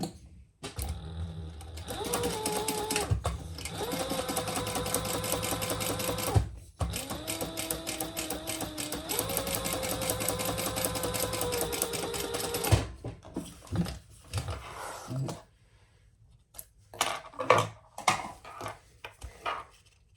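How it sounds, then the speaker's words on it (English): Sewing machine topstitching along the bottom of a small Mini Traveler sling bag, running in close, steady bursts of rapid mechanical stitching with brief pauses, then quieter handling clicks toward the end. "Then we're going to turn that over and top stitch on the bottom here."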